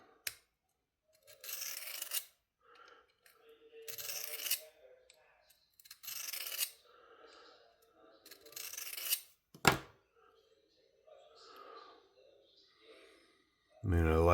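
Knife blade drawn across a Worksharp folding field sharpener, with several distinct raspy strokes in bursts separated by pauses, a sharp tap midway, and a voice talking between passes.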